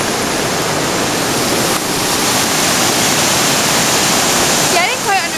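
Floodwater from Hurricane Irene near Hunter, New York, pours down in a loud, steady roar of rushing water, with a brief voice rising near the end.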